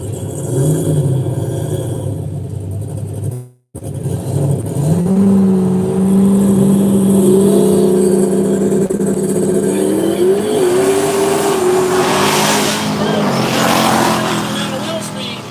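A Camaro drag racing at a no-prep event: loud engine roar with rising revs as the car launches and pulls, tonal engine whine climbing through gears, with an announcer's voice over the track noise.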